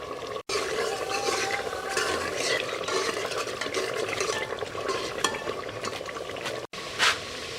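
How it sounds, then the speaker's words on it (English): A spoon stirs ekuru stew in a pot, giving a steady wet scraping and soft sizzling that runs almost unbroken for several seconds, close and moderately quiet, with no voices. "Stirring. Stir."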